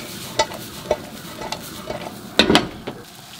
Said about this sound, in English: You just want to toss that through.